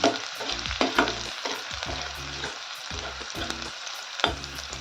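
Radish seed pods roasting in a pan with a steady sizzle, broken by repeated scraping stir strokes of a spatula at close range, with no voices.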